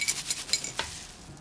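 Broken champagne glass shards rattling and clinking inside a shipping box as it is moved, a few faint, close, brittle clinks and shuffles with no talk.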